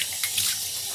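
Water runs and splashes steadily from a tap during a facial cleansing, as someone rinses their face with clean cold water; the sound is close and continuous, with no talking.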